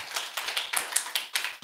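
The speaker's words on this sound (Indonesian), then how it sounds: "Tepuk tangan untuk Bapak ini." A church congregation applauds a man with a series of distinct, evenly spaced claps, sharp and fairly close, with no voices over them.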